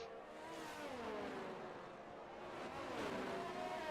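A Formula 1 car engine in the racing game F1 22 at Imola, a continuous loud whine shifting in pitch as it revs and changes gear.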